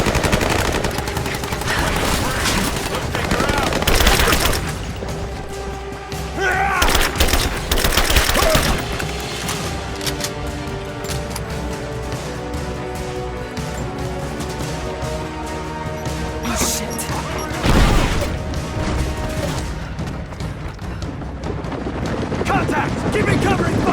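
Heavy sustained gunfire and machine-gun bursts in Rise of the Tomb Raider, loud and dense with crashing impacts throughout, and voices shouting over the fight.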